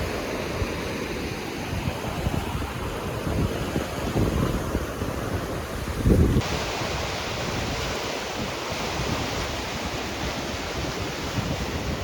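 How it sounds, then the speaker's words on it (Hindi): Sea waves surge steadily onto the shore at Dhanushkodi under constant wind buffeting, a dense continuous wash with one brief louder gust or splash midway. "ये समुद्र की लहरें,"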